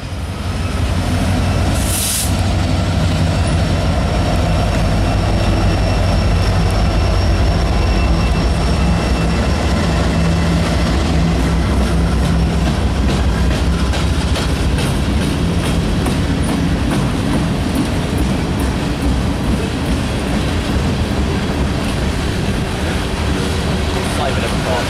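A train in the Cincinnati, Ohio area rumbles past close by with steady clickety-clack of wheels on rails, loud and continuous throughout, with a brief higher screech near the start.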